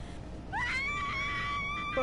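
A character in the video game Heavy Rain screams in one sustained, rising then steady cry lasting about a second and a half, loud and close over a low background hum.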